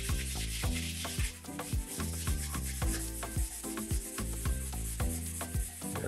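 Sandpaper rubs rhythmically over a rusty 100-year-old golf iron with a wooden shaft, quick repeated scratchy strokes, close and steady throughout.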